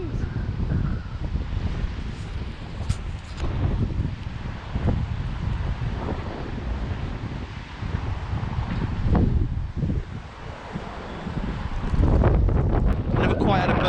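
Gusty wind buffets the microphone high above a train station, a steady broadband roar that swells and dips over the full duration, with louder blasts near the end.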